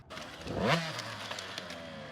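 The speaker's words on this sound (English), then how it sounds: "get on the gas and roll the throttle on, and everything gets smoother" Dirt bike engine revving up as the throttle rolls on, a rising rev that peaks and then settles into a steady idle-like drone, close and fairly loud.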